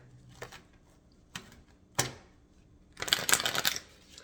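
A deck of tarot cards is shuffled close by in a few short, crisp riffles and snaps, ending in a longer burst of rapid flicking.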